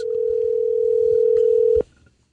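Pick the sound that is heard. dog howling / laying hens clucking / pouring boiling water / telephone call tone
telephone call tone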